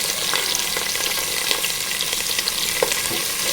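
Chopped onion, green chilli and curry leaves sizzle in hot oil in a pan for a bitter gourd tomato curry, a steady close frying hiss with faint stirring and no talk.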